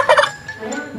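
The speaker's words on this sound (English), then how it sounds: "Turkey." A turkey gobbles once, a quick loud warbling burst at the start, followed by a few softer throaty notes.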